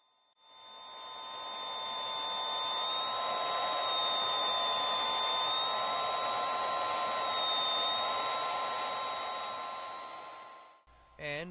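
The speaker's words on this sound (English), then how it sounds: "It's probably not meant to spin this fast, being as stepper motors usually never spin this fast." A stepper motor spins a 3D-printed turbo pump at very high speed, giving a loud, steady high-pitched whine that holds for about ten seconds before cutting off.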